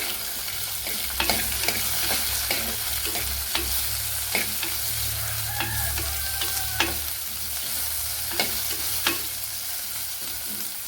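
Tomato frying in a pan for a parrotfish curry made without coconut, a steady sizzle with repeated scraping stirs at a regular pace, close and moderately loud.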